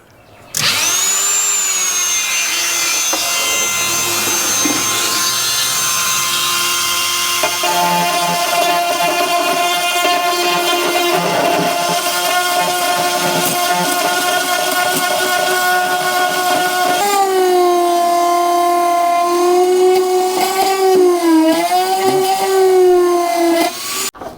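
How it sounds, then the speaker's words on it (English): A Dremel rotary tool whines at high speed while cutting a groove into a cracked plastic Suzuki fender, a loud, sustained tonal buzz whose pitch dips and wavers as the bit bites into the plastic, no talking. "I've put a wee end on my Dremel, and I'm going to try and take just a wee groove out of there"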